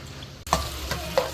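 Cumin seeds frying in oil, a steady close sizzle that begins abruptly, with a few light scraping stirs and ticks on top.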